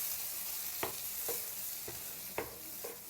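Tomato, capsicum, onion and boiled vegetables are stirred in a pan. A spoon scrapes in short, evenly spaced strokes over a faint, low sizzle.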